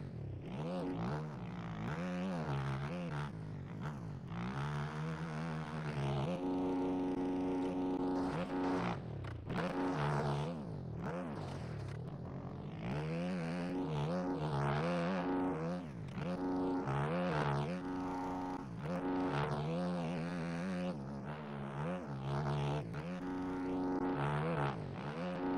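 A KTM motorbike engine in a racing video game, revving up and down through long harmonic whines that rise, sag and bog out, sustained and fairly loud across the whole stretch without any speech.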